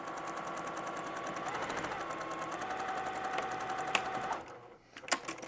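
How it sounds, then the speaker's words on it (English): A sewing machine stitches through a fabric grocery bag with a steady, close motor whir and needle rattle, then stops abruptly near the end, leaving a few light clicks. "go to your sewing machine like I'm going to do, and stitch it so that nothing moves"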